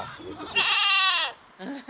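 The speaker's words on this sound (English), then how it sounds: "We're very proud of our goats, though." A goat gives one long, loud, wavering bleat close by, preceded and followed by faint low voices in the background.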